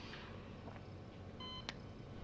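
Electronic beeps sound in the video game Happy Humble Burger Farm, faint and brief over a low background hum, with one short tonal beep and a sharp click.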